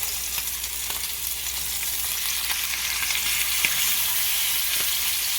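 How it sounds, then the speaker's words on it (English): Thick pork chops searing in a hot pan give a steady, even sizzle and crackle with faint pops, close and continuous with no talking. "so we get a really, really good sear"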